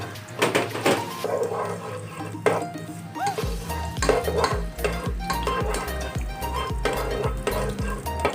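Ginger frying in hot oil in a pan for chicken glass noodle soup, crackling steadily while a utensil scrapes and clanks against the pan in a repeated stirring rhythm, close and fairly loud, with a low hum underneath.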